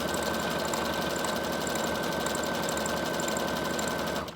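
A sewing machine runs a steady zigzag stitch while making a junk journal, a continuous, even mechanical whir with fine rapid ticking that stays close and constant and cuts off at the end.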